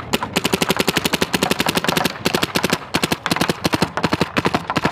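Empire Mini GS paintball marker firing in burst mode, a loud, rapid string of sharp pops in quick bursts separated by brief gaps, close and alone with no voices.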